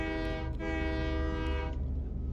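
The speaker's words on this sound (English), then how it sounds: "Yep, horn works." Locomotive horn in the railway simulator game Train Life, a loud sustained harmonic blast lasting about 1.7 seconds over a steady engine rumble, then cutting off.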